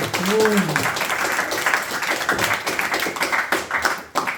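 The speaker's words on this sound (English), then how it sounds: "please give a round of applause" A group claps a round of applause at a Bhakti Vriksha Bhagavad Gita gathering. The clapping is fairly close and busy, with voices mixed in and a brief sung or hummed tone near the start.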